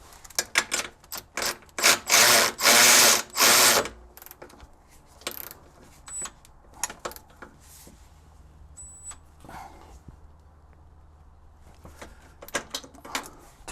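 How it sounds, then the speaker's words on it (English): Ratchet tightening a nut on a BMW E46 transmission mount, with several bursts of rapid clicking cranks early on, then scattered clicks, taps and scrapes of metal work, close and with no speech. "So we'll get this nut back on."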